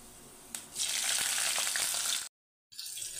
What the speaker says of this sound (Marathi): मिरची आपल्याला हलकीशी परतवून घ्यायची, म्हणजे अशी छान लागते साबुदाण्यामध्ये खाताना।